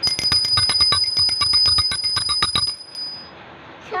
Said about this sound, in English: Sound of bell.